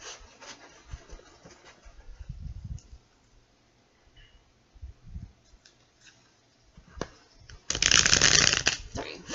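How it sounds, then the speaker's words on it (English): Tarot cards are shuffled by hand in a quiet room, soft riffling bursts and rubbing scattered through the clip, ending in a loud, sustained rapid shuffle, with faint speech in places. "feel free to fast forward through the shuffling"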